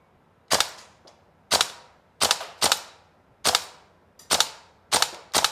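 A Tokyo Marui gas blowback AKM airsoft rifle fires eight sharp, crisp single shots at irregular intervals, each a loud snapping crack with a short ringing decay, with brief quiet gaps between them.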